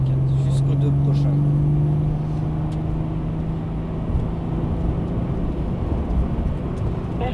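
A Maserati engine on a race track drones and rises in a steady tonal hum as the car accelerates, heard from inside under an instructor's spoken coaching.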